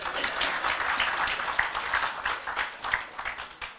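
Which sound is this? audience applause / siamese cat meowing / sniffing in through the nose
audience applause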